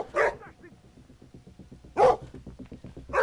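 Dog barking in the video game Schoolboy Runaway: two or three sharp, loud barks spaced about two seconds apart over low background game noise.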